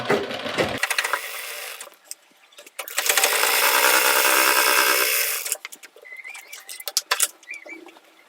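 A sewing machine stitches a umbrella-cut jumpsuit in one steady, loud whirring run of a few seconds, framed by quieter handling clicks and rustles before and after.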